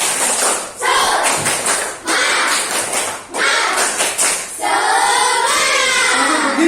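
Schoolchildren in a classroom perform a spirit clap, rhythmic bursts of group clapping separated by short pauses, with children's voices chanting along, close and loud.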